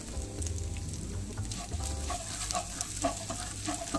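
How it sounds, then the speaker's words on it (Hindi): Ginger garlic paste, with yogurt and chili stirred in, frying in a pan for a restaurant-style paneer makhani: a steady, fairly loud close sizzle with light stirring scrapes and no talk. "इसको हम भूनेंगे अच्छी तरीके से, अभी जिंजर गार्लिक के पेस्ट को"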